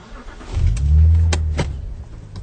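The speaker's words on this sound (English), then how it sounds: "Sasha, get in the fucking car, let's go." A car engine rumbles close by as people climb in, with door and handling clicks at moments before the motor settles into a steady idle.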